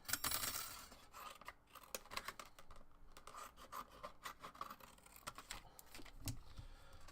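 Repeated crisp scissor snips and rustling paper, an irregular run of close cuts with scraping in between, no talking.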